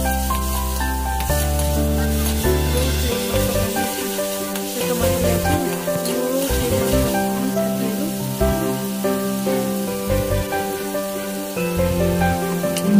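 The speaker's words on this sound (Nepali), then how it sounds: "अदुवालाई फ्राई मैले चाहिँ मजाले चलाइदिनु" Ginger fries in a pan for a vegetable momo filling, a steady close sizzle with stirring scrapes, heard under loud music throughout.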